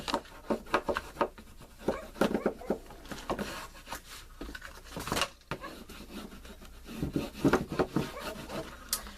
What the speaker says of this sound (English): Bone folder, burnish that down.